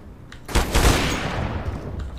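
A burst of rapid gunfire erupts in Counter-Strike: Global Offensive, a loud fusillade of overlapping shots with a long rumbling tail.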